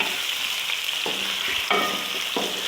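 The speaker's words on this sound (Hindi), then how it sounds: "चिकन को मैं भून लूँगी ऐसे ही 5 से 6 मिनट" Chicken frying in hot oil makes a dense, continuous sizzle. Three sharper clatters from stirring cut through it at intervals, and no voices are heard.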